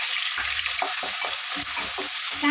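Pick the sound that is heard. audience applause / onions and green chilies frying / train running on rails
onions and green chilies frying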